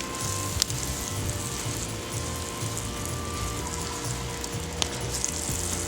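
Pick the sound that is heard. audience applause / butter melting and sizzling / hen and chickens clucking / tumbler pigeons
butter melting and sizzling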